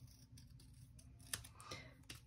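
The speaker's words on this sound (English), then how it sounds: "I'm doing like a fast fussy cut" Scissors fussy cutting fabric: faint, quick snips and small clicks, a few close together and one slightly sharper, in an otherwise quiet room.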